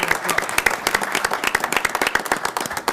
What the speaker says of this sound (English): Audience at ease. Round of applause.